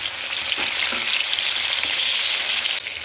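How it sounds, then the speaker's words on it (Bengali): Pieces of katla fish fry in hot oil with a steady, bright sizzle, close and even, with a few faint stirring clicks and no talk. "আমি খুব কড়া করে ভাজিনি মোটামুটি হালকা ভেজে নিয়েছি বাকি মাছগুলো আমি দিয়ে দিলাম"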